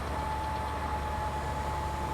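A planting tractor engine in Farming Simulator 22 drones steadily at idle, a continuous low rumble with a faint constant whine riding above it, unbroken and alone throughout.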